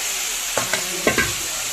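Ridge gourd sizzles in hot mustard oil with fenugreek seeds in a kadai, a steady frying hiss with a few sharp crackles and spits as it is stirred, close by.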